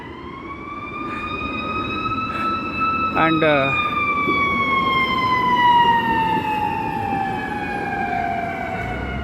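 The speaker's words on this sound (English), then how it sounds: "I hear the sounds of a fire engine." A fire engine siren wails steadily in a long falling sweep as the truck passes at moderate distance, with a brief burst of rapid yelping partway through and a faint voice underneath.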